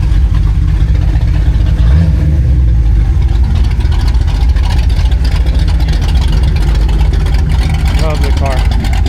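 A Nissan S15's engine rumbles loud and close at a car meet, a steady low idle running throughout while people talk over it.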